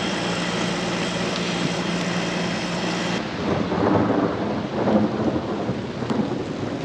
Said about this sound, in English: You would think on a day like today, with thunderstorms, it's raining like crazy